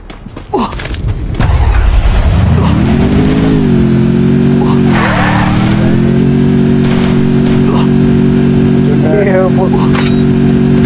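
A video game car engine revs up sharply, then settles into a loud, sustained drone with a brief pitch dip, while voices chatter over it; the car is emitting smoke.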